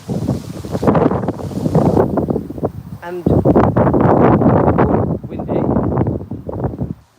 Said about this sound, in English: So I had a big gust of wind then